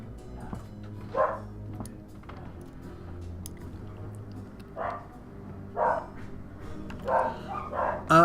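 Dogs bark indoors, with scattered, mid-distance bow-wow barks and yips arriving in irregular bursts over a low background hum, growing more frequent toward the end.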